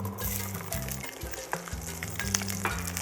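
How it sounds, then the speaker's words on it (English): Whole garlic sizzles and fries in hot oil in a pan for Trinidad-style curry shrimp, a steady close crackling sizzle with no talk over it. "Allow the garlic to kind of caramelize a little bit first before we add the onions and the pimento"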